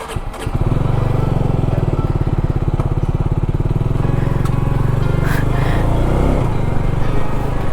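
A Benelli TRK 502x motorcycle starts and rides off on a test ride, its engine giving a loud, steady, close rumble with a rapid pulsing throb that holds for several seconds.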